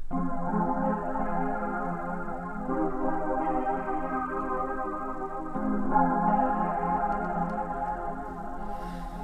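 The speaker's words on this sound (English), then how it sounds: "how to make a deep house style chord sound" A warm, sustained deep house style synth chord with rich harmonics, shifting between a few voicings, played alone at moderate volume.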